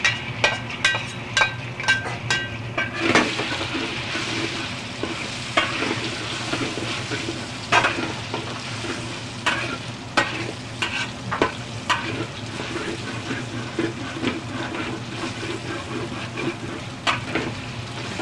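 Shrimp frying briefly in a pan of oil for pad thai, with a constant sizzle and repeated scraping stirs and clinks of a utensil against the pan, heard close up.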